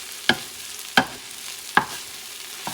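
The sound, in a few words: stirring rice and sardines frying in a pan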